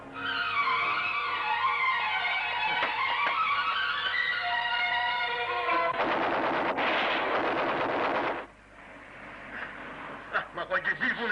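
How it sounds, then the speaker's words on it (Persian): Sustained bursts of rapid machine gun fire in an old 1972 Iranian film, loud and close, with an engine-like roar and shouting voices under the gunfire, then fading to scattered shots. "جواب مسلسلشون رو بدین"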